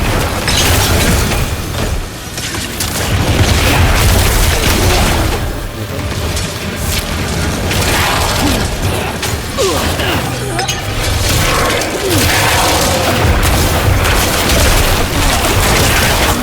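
A bridge collapsing in Diablo IV, with heavy booms, cracking debris and clinking fragments rolling over a dense, continuous rumble of game sound, loud and sustained.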